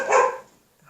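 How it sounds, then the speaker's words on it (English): A single dog barks once, close and fairly loud, a short burst that fades into near silence. "We are starting off with barking."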